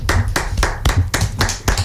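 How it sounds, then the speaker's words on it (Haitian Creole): An audience at a New Year's event claps briskly and evenly up close, a few hands producing distinct rhythmic claps rather than a full roar. "Merci, on l'applaudit"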